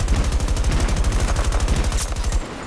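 Rapid automatic gunfire from a weapon in Battlefield 2042, a loud sustained burst of evenly spaced shots that stops abruptly near the end, leaving a quieter tail.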